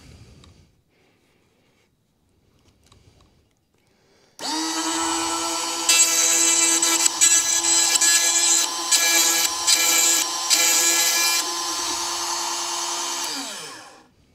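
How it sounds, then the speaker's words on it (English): A Granberg chainsaw sharpening grinder spins up after a few quiet seconds and whines steadily for about nine seconds, with brief rough bursts as it grinds chainsaw teeth, then winds down; close and loud, with no speech. "two or three little slight grinds with it, and I'm ready to go to the next tooth"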